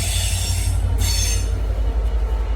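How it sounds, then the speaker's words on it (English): A train passing close by with loud, steady wheel squeal over a heavy low rumble, continuous for a few seconds with no talking. "Goddamn train."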